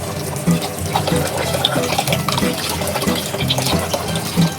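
Glutinous rice washed in water in a kitchen, a steady sloshing and swishing of grains and liquid stirred by hand, close and continuous throughout.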